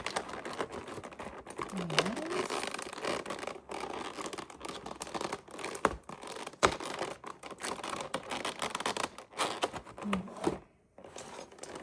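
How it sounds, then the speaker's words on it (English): Crinkly plastic blister packaging of a blind-box doll being handled and pulled open, a dense run of close crackling and tapping that goes on steadily for several seconds. "let's get her out of her blister pack"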